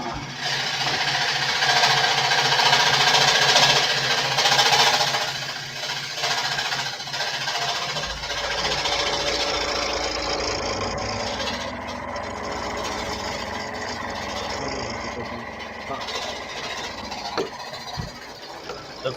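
Seiko and DeWalt scroll saws cut during a scroll-off competition, giving a steady, fairly loud buzzing drone that runs unbroken for the whole stretch with no pauses.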